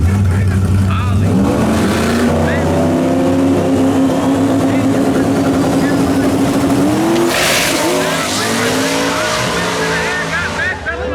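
A turbocharged Mustang race car roars at a racetrack during a Holley event, its engine loud and sustained, with revving and tire noise under constant talk.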